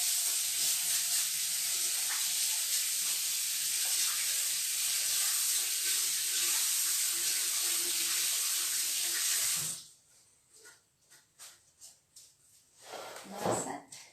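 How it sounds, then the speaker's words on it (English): A kitchen tap runs in a steady, bright hiss for about ten seconds while hands are washed, then shuts off, leaving a few splashes, drips and handling noises. "let me just wash my hands"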